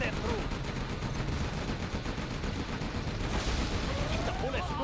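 Dense, continuous gunfire and battle noise from the real-time strategy game Command & Conquer Generals, with rapid overlapping shots and explosions at steady loudness; a voice speaks over it.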